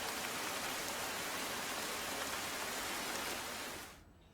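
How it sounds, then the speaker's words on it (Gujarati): Heavy downpour in Himachal Pradesh, a steady broadband roar of rain falling close and evenly loud for several seconds, then cutting off abruptly near the end, with no voices. "હિમાચલ પ્રદેશમાં હવામાન વિભાગના એલર્ટ વચ્ચે ધોધમાર વરસાદ વરસી રહ્યો છે"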